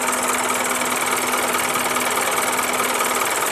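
An Isuzu NPR150 truck's diesel engine idles steadily nearby, a loud even rattling hum with a constant rhythmic knock and no voices.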